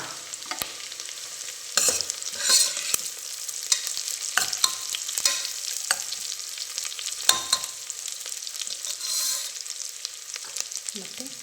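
Chopped green chillies fry in oil with browned onions in a pan for ghee rice. A steady close sizzle is broken by frequent scraping and clacking as a spoon stirs them.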